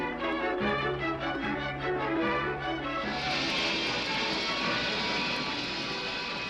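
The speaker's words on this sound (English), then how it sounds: "New planes have been developed that rise vertically and fly at jet speeds." A vertical takeoff jet aircraft's loud, roaring engine fills the air, starting with a rhythmic throbbing pulse before swelling into a steady, broad rushing roar.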